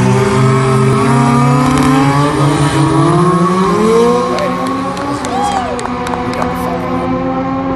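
Drag racing car accelerating hard through a quarter-mile run, a loud sustained engine roar rising in pitch with crowd cheering and noise behind it.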